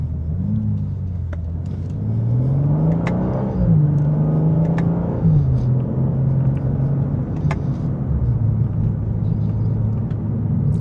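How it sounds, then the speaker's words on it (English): A 2025 BMW M2 engine revving under acceleration, its loud droning tone climbing and then dropping sharply at paddle-shifted gear changes, with several rises and falls and no voices over it. "you can shift your gears yourself with the paddle shifters"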